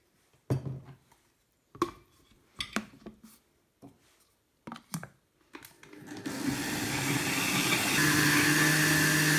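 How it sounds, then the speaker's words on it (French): Blender puréeing split pea cream with minced garlic, salt and water: several short bursts with pauses, then a steady, louder whir running continuously to the end. "on va mixer tout ça"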